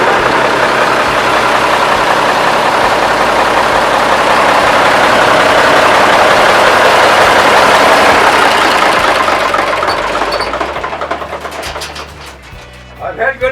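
An Allis-Chalmers engine powering a sawmill idles with a steady, loud low rumble for about ten seconds, then fades and quiets toward the end, with a few faint knocks.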